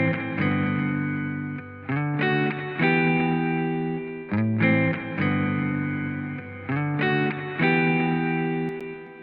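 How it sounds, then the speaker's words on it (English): A repeating electric guitar phrase with chords and notes rings out through a plate reverb effect, a smooth, bright reverb tail sustaining between strums. "with the reverb on, we have different types: ambient, spring, plate, chamber, room, hall. I'll go with plate 1."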